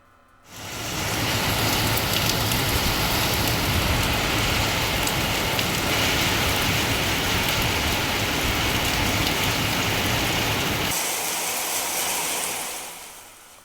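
Heavy summer rain with strong wind pours down steadily in Tamil Nadu, a dense, loud, even hiss of rainfall that swells in quickly and fades near the end, with no voices.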